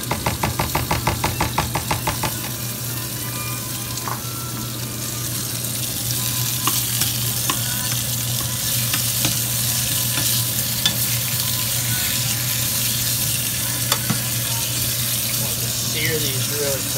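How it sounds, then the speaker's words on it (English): Shrimp étouffée frying over high heat in a cast iron skillet, a loud continuous sizzle with rhythmic stirring scrapes at first, then a steady roar, as someone talks. "Cast iron skillet works real good for this too. Handle that high heat."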